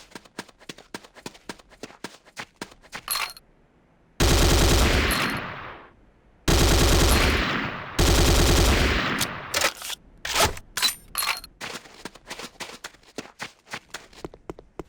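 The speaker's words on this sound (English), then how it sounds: "The next weapon is the Corbretti AR-70 Raptor automatic rifle." Corbretti AR-70 Raptor automatic rifle in Red Alert, heard first as a rapid run of sharp single shots. Three long, loud sustained bursts follow, then scattered closer shots to finish.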